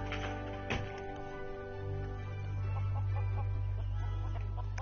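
A chicken in the PS4 game Lego Worlds gives a few soft clucks over a steady, low in-game background hum.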